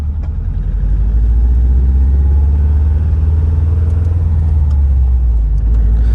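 A 2005 Subaru Impreza WRX STI's warmed-up engine rumbles steadily and close by, a deep, even drone with no talk over it.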